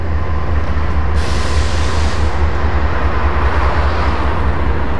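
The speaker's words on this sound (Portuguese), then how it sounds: "Olha lá uma locomotiva bonita." A locomotive train passing nearby in the Santos docks area, a loud continuous rolling rumble with a brighter hissing swell in the middle, steady throughout.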